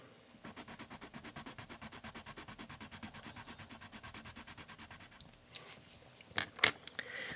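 Polychromos oil-based colored pencil pressed hard against paper, rapid rhythmic scratchy strokes repeating close up for about five seconds, then stopping, followed by a few sharp clicks and handling knocks.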